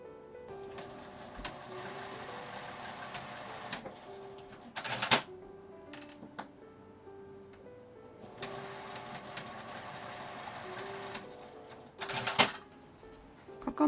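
Sewing machine stitching fabric with a 1 cm seam allowance in two quiet bursts of rapid, even needle chatter, each followed by brief handling clicks, a small keychain pouch taking shape.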